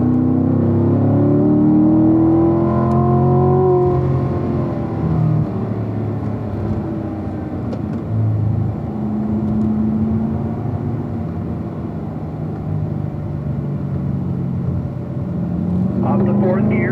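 A race car accelerates on a circuit with a steady engine drone and rising pitch throughout, while an instructor coaches over it from inside the car.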